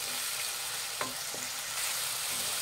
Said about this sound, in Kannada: ಚೆನ್ನಾಗಿ ಒಂದು ಸ್ವಲ್ಪ ಮೆತ್ತಗಾಗೋವರೆಗೂ ಫ್ರೈ ಮಾಡಬೇಕು